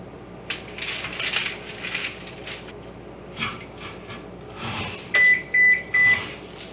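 A kitchen oven sounds its ready alert: three loud, evenly spaced beeps near the end, following scattered handling noises and light clatter.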